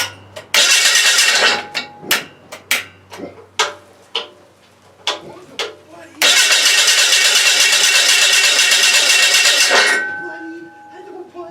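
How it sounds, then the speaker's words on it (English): Engine of a portable dimension sawmill cranked repeatedly in short starter bursts, then a longer sustained cranking run that fades out, loud and close. "I guess my attempt at starting this motor is stymied for a while"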